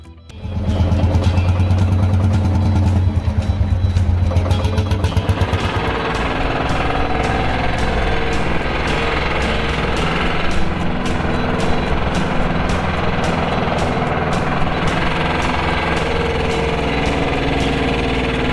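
Lanz Bulldog D1616 tractor with a single-cylinder two-stroke diesel engine of 2,256 cc, running loud and steady with a dense, continuous throbbing rumble throughout, heavier for the first few seconds.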